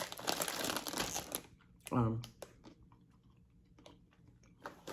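Crisp crunching and chewing of plantain chips, close to the microphone, in short bursts with pauses between bites, after a stretch of crinkling packaging and some talking.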